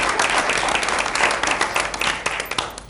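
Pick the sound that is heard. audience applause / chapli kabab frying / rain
audience applause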